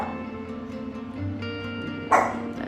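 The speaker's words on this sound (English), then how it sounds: "That's a house dog that we have right now." A house dog named Jordan gives a short yelp-like bark over a steady low hum indoors, one sharp burst near the end of a quiet stretch.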